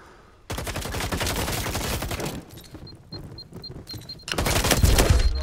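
Rapid gunfire in the video game Firewall, loud and dense bursts of shots filling most of the few seconds, with a brief lull before a final heavy volley.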